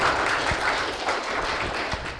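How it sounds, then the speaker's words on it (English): Audience clapping at a motorsports gathering, a moderate burst that fades slightly over a couple of seconds, with a few sharper claps standing out. "So I think that deserves a round of applause right there."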